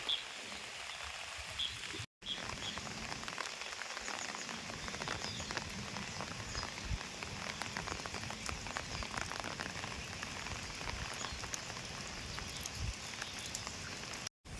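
Steady rain patters densely on surfaces throughout in Tagaytay, Philippines, a constant hiss of drops with no voices.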